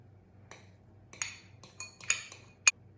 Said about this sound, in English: Then I will mix the sweet cheese